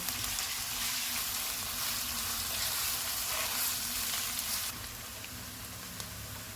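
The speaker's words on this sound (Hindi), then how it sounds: "इसमें दरमियाने साइज़ के 2 प्याज डालेंगे। इनको गोल्डन फ्राई करेंगे।" Steady hiss and crackle of two medium onions frying golden in hot oil, continuous and close, easing slightly quieter near the end with no voices.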